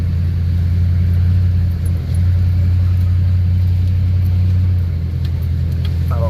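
Duramax diesel pickup truck with flatbed rolling along a rough dirt road in four-wheel drive, a steady loud low engine drone and road rumble throughout with no talk.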